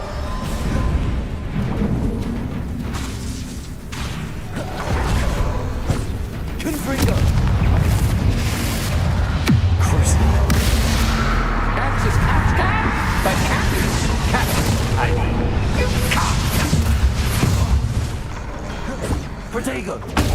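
Spell explosions from Bombarda and Confringo in the Hogwarts Legacy video game crash and boom one after another in a dense, loud, nonstop stream of combat effects, with voices mixed in.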